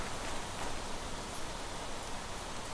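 Rain in the survival video game The Planet Crafter, a soft steady hiss of falling drops at moderate level with no voices over it.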